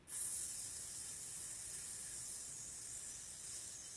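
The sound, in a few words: exhale imitating a balloon letting out air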